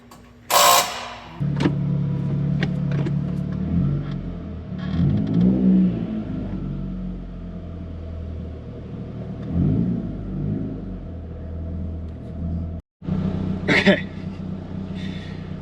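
An older car's engine and exhaust idle and rev up close, with a low rumbling drone swelling in a few throttle blips, a brief cutout, then resuming.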